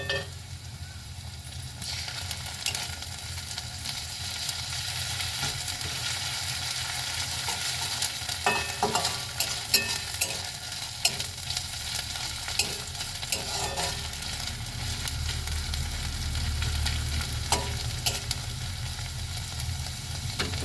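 Ginger garlic paste frying in a pan for a prawn khichuri, a continuous close crackling sizzle with occasional stirring clinks, steady throughout and free of talk.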